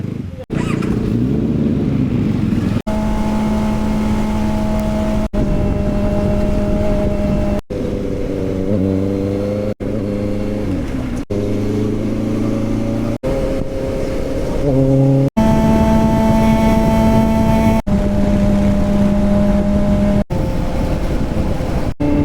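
A Benda LFC 700 Pro motorcycle on a ride, its engine droning loud and close with steady tones that shift pitch through repeated gear changes and revs, wind rumble underneath.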